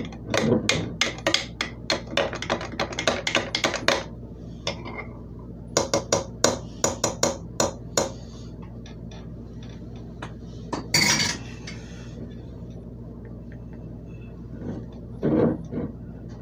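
A spoon vigorously stirs a homemade sourdough starter in a container, giving fast bursts of clinking and scraping strokes that pause and resume, then a few sparse taps near the end.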